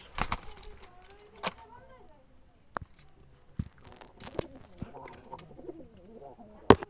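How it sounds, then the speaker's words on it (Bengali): Black Jalali wild pigeons coo in a loft, soft repeated coos scattered through the clip amid wing flutters and sharp clacks of movement, with a faint voice in the background. "এগুলো কিন্তু কালো জালালি বুনো কবুতর"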